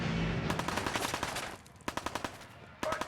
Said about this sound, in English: we're going to hear shooting, but they're not shooting at us